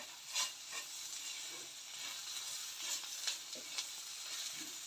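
Spice powders frying in a pan for a sardine fish curry with kanthari chillies, giving a steady close sizzle with occasional scraping stirs of a spoon and no talk.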